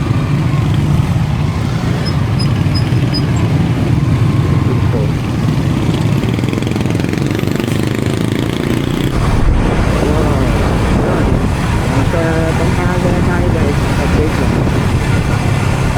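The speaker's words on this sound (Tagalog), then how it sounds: "Yan, traffic na talaga dito." Continuous road traffic noise with engines and motorbikes rumbling nearby, wind buffeting the microphone and occasional voices underneath.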